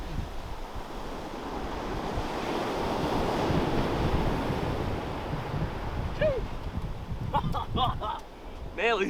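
Ocean surf washes onto Diamond Beach in Iceland, a loud continuous rush of waves with wind buffeting the microphone, the surge building mid-way, then brief voices and exclamations near the end.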